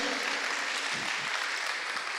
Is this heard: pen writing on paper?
no